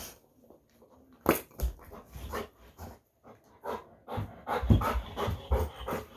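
A dog pants in quick rhythmic bursts during rough physical play, breathy huffs coming close and fairly loud, with a few small whimpers and soft barks mixed in and no talking.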